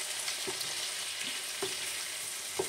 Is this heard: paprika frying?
yes